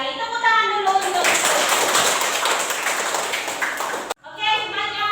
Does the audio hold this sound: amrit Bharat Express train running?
no